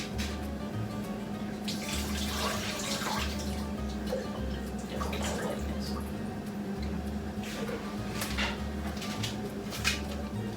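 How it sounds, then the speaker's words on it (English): Water drains steadily from cooked rice, a continuous splashing trickle with occasional brighter spatters, heard alone and close. "Just so I can get the rest of the rice, I'm just drain this."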